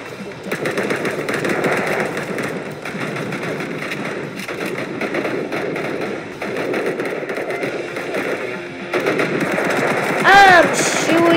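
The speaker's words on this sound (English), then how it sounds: "I'm shooting you dead" Rapid automatic gunfire rattles through a Code of War shooter game, dense bursts running almost continuously at moderate loudness, with brief electronic game effects near the end.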